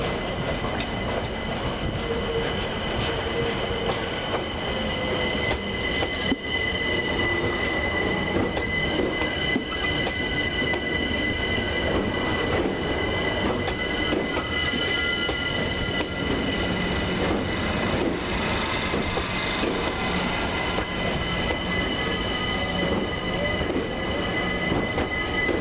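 London Overground electric train at Richmond station, rolling through with a steady hum, rail rumble and high squealing wheels, heard continuously and fairly close for the whole stretch.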